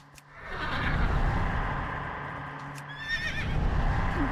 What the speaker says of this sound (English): Cute looking horse too.